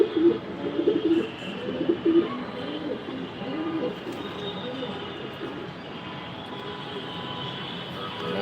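Pigeons coo softly and repeatedly inside a racing pigeon loft, one bird seemingly sick with a cold, against a steady low background hum.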